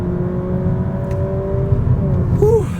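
A Honda Civic 2.0L e:HEV hybrid accelerating on a mountain drive, heard from inside as a steady engine drone with a rising whine near the end.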